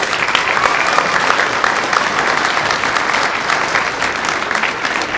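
An audience at a small-town talent competition gives the contestants a big round of applause, loud, dense and continuous clapping filling the hall.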